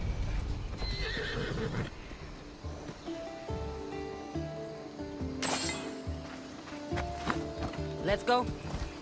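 Horse hooves clip-clopping at a gallop with a loud neigh and whinny in Assassin's Creed Odyssey, near a beach with surf in the background, while voices talk over the riding.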